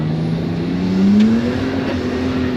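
A Nissan Skyline with no limited-slip differential spins its wheels, the engine note climbing in a steady rising whine over a constant rumble, close and loud.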